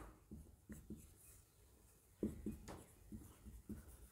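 Marker or chalk strokes on a classroom board during a math lesson, a run of short scratchy taps and squeaks spaced irregularly, fairly faint against a quiet room.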